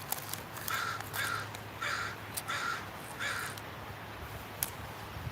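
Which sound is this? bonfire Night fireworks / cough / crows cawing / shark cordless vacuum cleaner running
crows cawing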